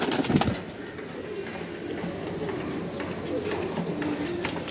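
Coos from an English Tippler bloodline high-flier pigeon, soft and low, running steadily through a dense, noisy loft background with a sharper burst near the start and no talk.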